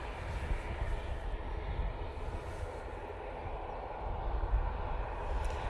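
An ATR turboprop airliner moves past at Manchester Airport, a steady, fairly faint engine roar with a low rumble that swells slightly near the end, heard from a distance outdoors.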